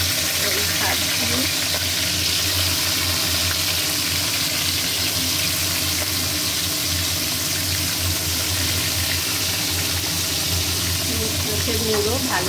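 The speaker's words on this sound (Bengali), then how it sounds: "ইলিশ মাছের মুড়ো ভালো করে ভেজে নেব। মুড়ো ভালো করে ভেজে নিচ্ছি।" Hilsa fish head frying in a pan, a steady, loud sizzle that runs unbroken the whole time with faint scraping now and then.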